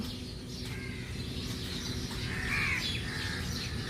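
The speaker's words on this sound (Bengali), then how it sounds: "হাজারে হাজারে চুনিয়ামুনিয়া পাখি" A huge flock of munia birds gathered in grass under a stormy sky give a constant background chatter of calls, with one brighter, louder chirping burst standing out partway through.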